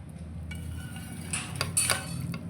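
Chicken biryani is stirred from bottom to top in a pot, giving a few soft scraping clinks of a spoon against the vessel, mostly light and close, with two brighter metallic knocks near the end.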